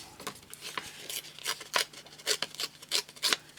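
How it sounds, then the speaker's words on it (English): Paper tears by hand around the edge of a card in a series of short, crisp ripping strokes, close and fairly quiet, with no talk. "I'm just going to rip around the whole of it"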